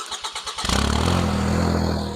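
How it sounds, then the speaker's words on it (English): A riding lawn mower engine cranks with a few rhythmic pulses, then catches and settles into a steady, close, chugging idle. "So we'll start the engine."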